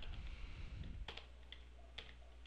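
Clicks from a computer keyboard while coding HTML, a few distinct key taps spaced irregularly at close range with a low background hum, no talking.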